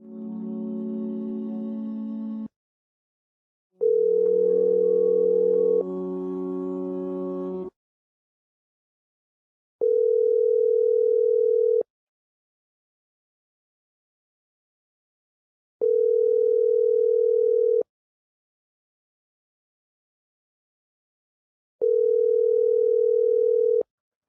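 Telephone line tones play while a call is placed: a couple of lower, uneven tones, then identical steady beeps of about two seconds repeating every six seconds, clear and alone with silence in between.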